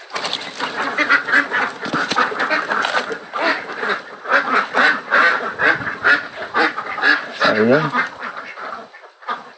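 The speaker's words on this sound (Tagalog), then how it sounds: "Tingnan talaga guys ang mga itik." A flock of ducks on a Philippine duck farm quacks continuously and loudly at close range in overlapping bursts, while someone speaks briefly over them.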